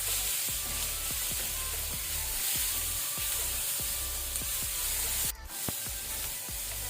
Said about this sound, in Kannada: ಸೊ ಇದನ್ನು ಸಹ ನಾವು ಸ್ವಲ್ಪ 1 ಮಿನಿಟ್ ಫ್ರೈ ಮಾಡ್ಕೊಳ್ಳೋಣ ಮೀಡಿಯಂ ಫ್ಲೇಮಲ್ಲಿ